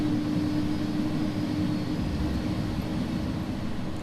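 Thrust reversers roar on an iniBuilds A300 cargo airliner landing in the X-Plane 11 flight simulator, a steady, dense engine rumble with a faint whine held throughout.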